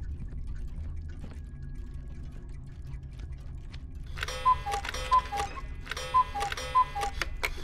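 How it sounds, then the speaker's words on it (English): Cuckoo clock ticking inside the video game MADiSON: a steady faint tick under low room hum, then bright chiming bursts with cuckoo-like two-note calls repeating about four times near the end. "Oh, it's a cuckoo clock."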